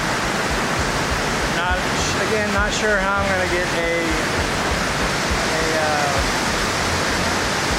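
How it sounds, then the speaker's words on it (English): Illgen Falls on the Baptism River pours with a steady broadband rush of falling water, nearby and constant, while someone talks briefly over the roar. "This is Iligan Falls on the Baptism River."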